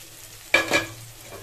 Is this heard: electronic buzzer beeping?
no